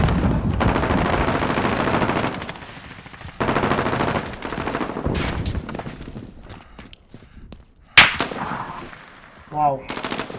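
Machine gun fire in Call of Duty: Modern Warfare multiplayer, with loud sustained bursts broken by short pauses, then sharper isolated shots and an impact near the end.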